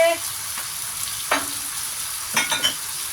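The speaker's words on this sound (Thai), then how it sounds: "ผัดเลยผัดเลย" Fish and peas stir-fried in a pan, a steady sizzling hiss with a few clinks and scrapes of the spatula, close up and without talk.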